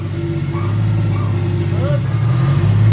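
A Toyota MK4 Supra engine runs steadily after a T56 Magnum six-speed gearbox swap, a loud continuous low drone with a slight rise in revs, as excited voices shout over it nearby.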